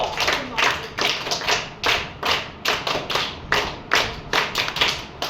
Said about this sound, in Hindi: शाबाश, इसके लिए भी तालियां बजाओ। स्काउट क्लैप गो।